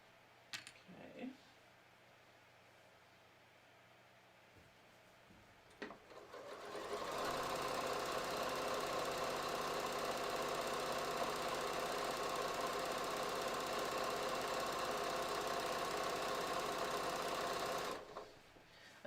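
A sewing machine stitching, close and loud at a steady, continuous whir for about ten seconds after a few faint knocks and handling sounds, then stopping abruptly.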